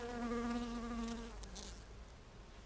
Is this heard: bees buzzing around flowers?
yes